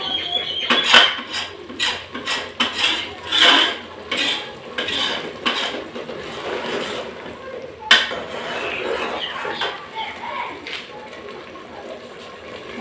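Cumin masala mixture stirred in a pan, a spoon repeatedly scraping and clinking against the metal in an uneven rhythm, close and fairly loud, with a brief sharper knock near the middle.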